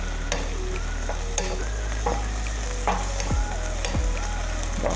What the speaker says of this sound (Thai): ลวนแค่พอสุกแบบนุ่มๆนะคะ